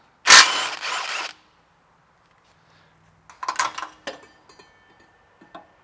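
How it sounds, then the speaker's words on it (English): A wrench works loose the lower 17mm shock bolt on a Toyota 4Runner, a rapid burst of ratcheting clicks up close, then a pause and a second run of scattered clicks and metallic taps. "I'm going to remove this lower 17mm bolt."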